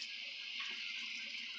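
A tap runs a steady thin stream of water during a static electricity experiment with a charged balloon, a soft continuous hiss with no talking.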